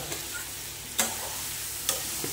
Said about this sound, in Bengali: মানে চালটা এমনভাবেই নাড়াবো যাতে সব কিছুর সঙ্গে ঘুরে মিলে যায়